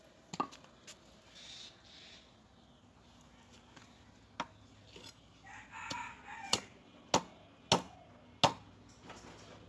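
A large pangas fish is cut up at home with a series of sharp chopping strikes, sparse at first and then coming in a quicker run, with faint background sounds between blows.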